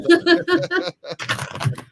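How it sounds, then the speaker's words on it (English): Tarot cards are shuffled with a brief papery riffle and scratchy flutter, heard close up alongside a voice talking. "I'm shuffling my cards now for you."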